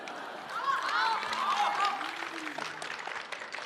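An audience at a Deyun She crosstalk show claps in a continuous, moderately loud patter, with performers' voices talking over the applause.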